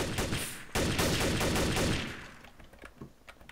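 Rapid automatic gunfire bursts in a Garry's Mod Trouble in Terrorist Town match, a dense loud volley for about two seconds that trails off into scattered fainter shots.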